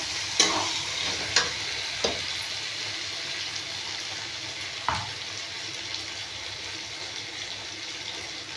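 Poppy seed, cashew and melon seed paste is stirred in a hot pan, a soft, steady sizzle broken by a few sharp spoon knocks and scrapes against the pan.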